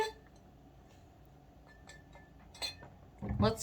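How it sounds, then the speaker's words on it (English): Glass clinks softly as a drink of water is lifted and set down, a few faint taps and then a brief louder rattle near the end, alone in a quiet room. "So I'm gonna take a sip of water here."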